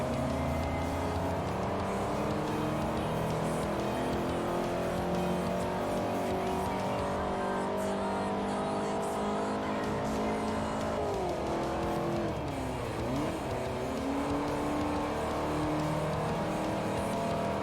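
A Porsche race car in Forza Motorsport 4 drives at speed, its engine holding a continuous loud whine that climbs through gears, dips sharply once, then pulls again, with no one speaking.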